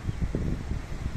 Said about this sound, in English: It's quite windy today, so I hope you can hear me again.